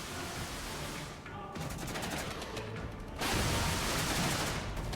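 Artillery fire in the Cold War real-time strategy game Regiments rolls on as a dense, continuous barrage of rapid bursts that swells louder toward the end.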